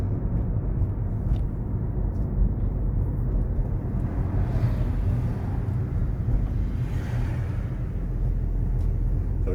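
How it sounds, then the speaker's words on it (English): A car engine pulls steadily uphill in second gear, a continuous low rumble of in-cabin road and engine noise at even level throughout, with no talk. "So I'm just increasing the power now, just to pull the car up the hill."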